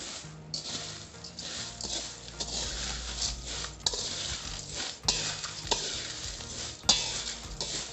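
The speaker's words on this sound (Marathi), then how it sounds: "मसाल्यामध्ये गरम तेल ओतायचे आहे, मसाला चांगला भाजायचा आहे।" Hot oil poured over a spice mix for poha chivda sizzles while a spoon stirs it, making repeated scraping strokes and clinks against the pan over a continuous frying hiss.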